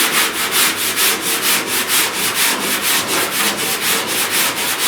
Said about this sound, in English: We got to sand that back off no matter what.